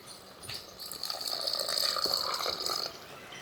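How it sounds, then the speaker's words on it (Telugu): Water poured into a pan of Andhra-style dry fish and brinjal curry, a soft steady trickle and splash that builds over a few seconds before tapering off, with no talking. "కొంచెం వాటర్ పోసుకుందాం."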